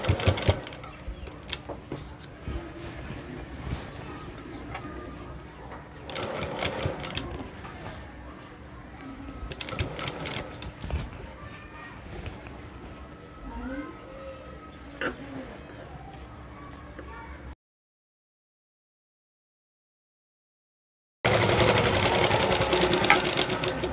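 A sewing machine runs steadily while stitching a belt onto a salwar, a continuous close whir with small variations in speed, broken by a brief silent gap before the loud running resumes; bird cooing may be faintly present.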